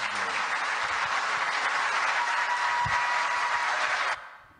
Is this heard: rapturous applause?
yes